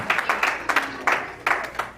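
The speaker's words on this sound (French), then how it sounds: "clap for the Lord" A wedding congregation in Dallas claps for the Lord in a church service, with loud rhythmic group clapping in steady bursts nearby.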